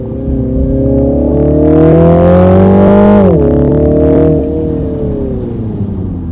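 A 2021 Mini Countryman JCW with a 306 hp engine accelerates hard, its loud engine note rising steadily, dipping briefly as if shifting gear, then climbing again. It is heard close and alone, with no talk.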